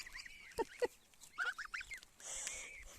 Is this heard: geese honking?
yes